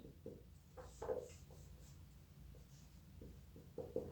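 Pen or chalk strokes while a maths solution is written out, short scratchy bursts in small irregular clusters with pauses between, faint and close in a quiet room.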